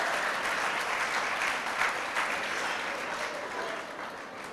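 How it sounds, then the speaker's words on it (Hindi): A seated audience at a Hanuman Chalisa spiritual discourse claps in sustained, dense applause for several seconds, steady and fairly loud, gradually easing toward the end. "अब बजाइए ताली, अब बजाइए ताली।"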